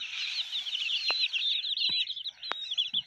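Small local desi chicks, around three weeks old, chirp continuously in a dense high-pitched chorus at close range, with a few soft clicks or knocks scattered through.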